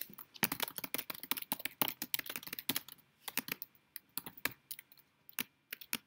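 Rapid typing on a computer keyboard, crisp close key clicks in uneven bursts with brief pauses, no voices.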